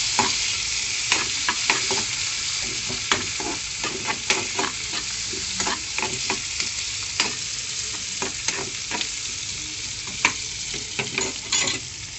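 Tomatoes tossed into browned onions in a pan for bachelor-style beetroot kozhambu fry with a steady close hiss and frequent sharp stirring clicks and scrapes.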